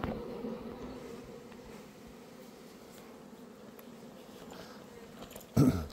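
A steady, soft buzz of honeybees on orientation flights hums throughout, like many bees flying nearby, with a brief louder burst near the end.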